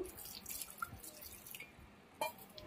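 Water poured into a pot of mango dal made with matar dal, heard as faint scattered drips and light splashes over quiet kitchen background, with no voices.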